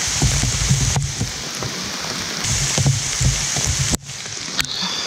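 Heavy rain pours onto a camping tarp, a dense, steady hiss of drops drumming on the fabric, close and continuous with a brief dip in intensity near the end.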